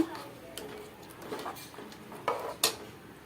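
A utensil scrapes and clinks against a pot of mutton curry in a few irregular strokes, moderately close, with soft kitchen background.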